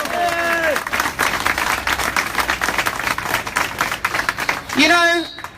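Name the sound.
crowd applause at a rally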